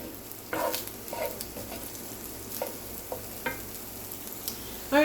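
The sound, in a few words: onions cooking down in a pan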